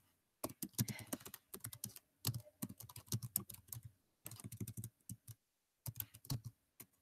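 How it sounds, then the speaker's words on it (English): Someone types quickly on a computer keyboard, producing dense clattering runs of key clicks with short pauses between bursts, close and quiet. "start typing my rhyme"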